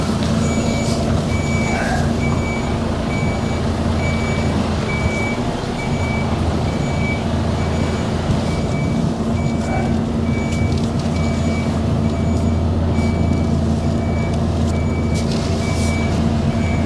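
Near a truck, a forklift moves and reverses, sending out a steady run of regularly spaced warning beeps over a constant low engine rumble and clatter for the whole stretch.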